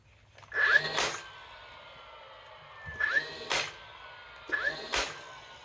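A brad nailer driving 1-inch brad nails into wood, three sharp pneumatic shots spaced a couple of seconds apart, each followed by a short hiss, close by with no talking.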